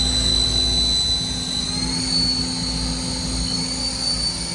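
A 2022 HAAS ST-30 CNC lathe turning center has its spindle running at around 3,000 RPM, giving a loud, steady machine drone with sustained high whining tones that stay constant throughout and no talking.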